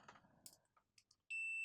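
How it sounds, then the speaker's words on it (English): A multimeter set to continuity mode, testing pins on a modem, gives one steady, loud, high-pitched beep that starts after quiet handling clicks and holds to the end. "So we'll get the multimeter here in continuity mode. So if the pins are connected"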